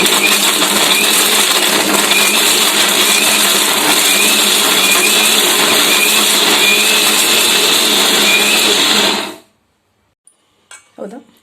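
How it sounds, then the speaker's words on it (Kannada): A mixer grinder jar whirs loudly and steadily for about nine seconds as it grinds broken chapati pieces for madali, then cuts off, leaving a few faint clinks of the jar. "ಚಪಾತಿಯನ್ನು ಮುರಿದು ಮಿಕ್ಸಿ ಜಾರಿಗೆ ಹಾಕಿದ್ನಲ್ಲ ಅದನ್ನ ಇವಾಗ ಏನು ಮಾಡ್ತಾ ಇದ್ದೀನಿ"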